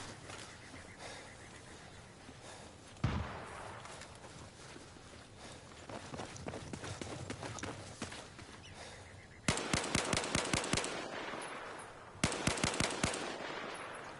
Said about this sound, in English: No, I'm just shooting.